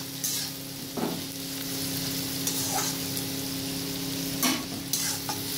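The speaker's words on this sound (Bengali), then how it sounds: "কেটে রাখা পেঁয়াজটা দিয়ে দিলাম। এটা এবার ভাজবো আমি।" Sliced onions sizzle in hot oil in a pan for egg curry, with a steady frying hiss and a few sharp spoon scrapes now and then, close and fairly quiet.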